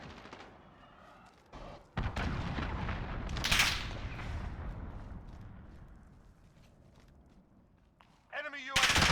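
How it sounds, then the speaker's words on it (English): A cruise missile strike lands in Call of Duty: Modern Warfare (2019) as a deep roaring blast that swells and slowly rumbles away, preceded and followed by sharper gunfire cracks. "Enemy cruise missile incoming."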